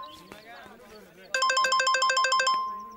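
A mobile phone ringtone for an incoming call from a lawyer starts partway through, a loud, regular electronic melody of repeated tonal pulses that follows softer background talk.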